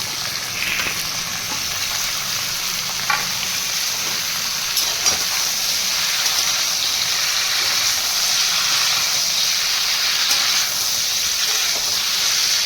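Ridge gourd and bottle gourd stems frying in hot oil in a pan, a loud, constant close-up sizzle and hiss with a few faint clicks and no speech.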